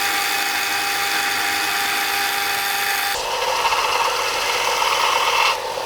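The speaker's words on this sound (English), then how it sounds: "now we need to cut it at like a 45-degree angle" A power tool cuts a metal tube at a 45-degree angle for an oil cooler mount, a continuous high whine that shifts pitch partway through as the blade bites deeper, then stops abruptly.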